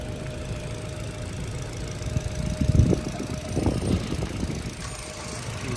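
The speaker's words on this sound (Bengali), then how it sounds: "এই দেখেন ইঞ্জিনের সাউন্ডটা দেখেন" A 2013 Hyundai Accent's engine idles steadily at a low, even hum, close by and moderate in volume, with a slight knocking swell near the middle and no voices.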